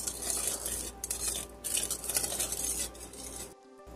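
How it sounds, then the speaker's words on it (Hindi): A spoon stirs sugar into warmed liquid for bread dough, giving soft metallic clinks and scraping against the bowl in quick bursts before the sound cuts off abruptly. "तो सबसे पहले मैं इसमें शुगर मिला रही हूँ, थोड़ा सा इसको मिक्स कर लेंगे।"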